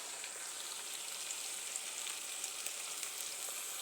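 Tomato paste dropped into hot oil for a mutton curry, giving a steady, dense sizzle and crackle that holds evenly throughout at moderate loudness.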